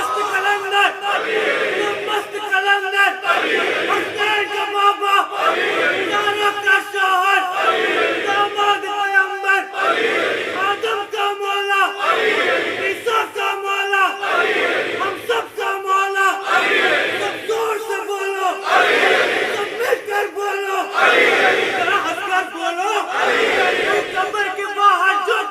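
A large crowd at a religious gathering shouts slogans together in loud rhythmic bursts, repeating call after call at a steady pace throughout, close and forceful with no pauses of silence.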